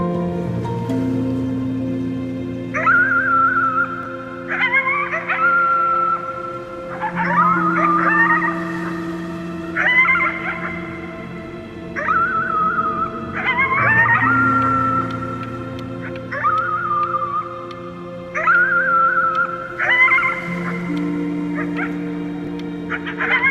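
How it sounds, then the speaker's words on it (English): Long, wavering howls at the moon in the Before Your Eyes video game rise and fall in repeated phrases over a steady low background drone, loud and close, with no speech. "You howled at the moon at the top of your lungs."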